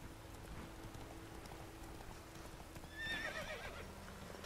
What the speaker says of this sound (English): I would expect a Witcher's horse to be able to fucking jump, Roach